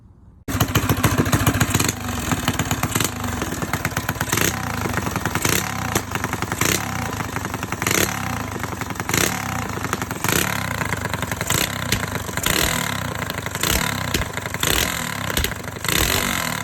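A Coleman CT200U mini bike engine runs loud and close throughout a ride, with a buzzing drone that rises and falls in repeated rhythmic surges.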